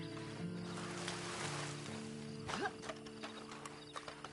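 Steady clip-clop of horse hooves in a PS4 video game over a low ambient musical drone, with a brief whinny-like sound midway.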